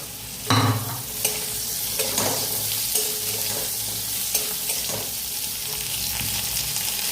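Ridge gourd stir-frying with garlic in a pan gives a steady soft sizzle, broken by several sharp scraping stirs of a spatula against the metal, close and alone.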